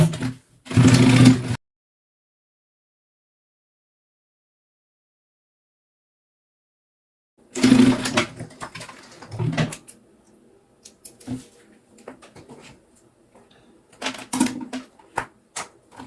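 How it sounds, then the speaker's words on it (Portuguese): A sewing machine stitches a zipper onto a thermal bag in two separate bursts, the first short and loud, the second longer with uneven runs, broken by a long silent pause and a few quieter rattles near the end. "E depois a gente vai costurar o zíper do jeito que eu acho mais fácil."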